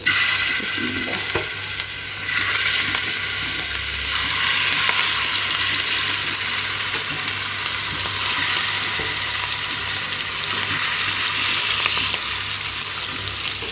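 Rohu fish seasoned with turmeric and chilli fries in oil in a pan, giving a loud, dense, unbroken sizzle up close with a bright hiss that holds steady from start to end.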